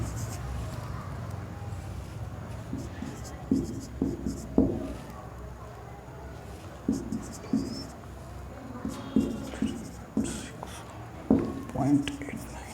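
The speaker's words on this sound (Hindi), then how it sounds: "मैं नेक्स्ट क्वेश्चन भी लिख देता हूँ।" Chalk or marker strokes on a board while a math problem on decimal simplification is written out, intermittent short scratchy taps and strokes in bursts, moderately close, with faint background noise and soft voice sounds.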